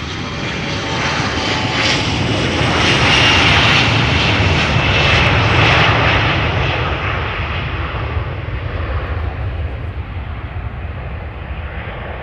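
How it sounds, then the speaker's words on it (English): A departing airliner roars loud and steady on runway 36L at Amsterdam Schiphol Airport, engine thunder building then slowly easing as it climbs away, with no voices. "You're watching departures take place from runway 36 left over here at Amsterdam Schiphol Airport."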